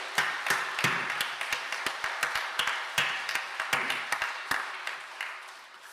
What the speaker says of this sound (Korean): 우리 다시 한번 따뜻한 박수를 보내겠습니다